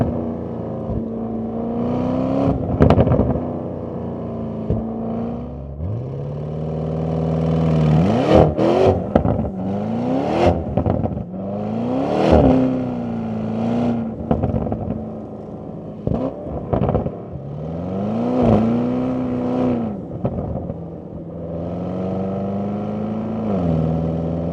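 Audi RSQ8 Performance SUV driving, its engine rising and falling through repeated revs and gear changes, with exhaust burbles and crackles on downshifts and throttle lift-off, close and fairly loud.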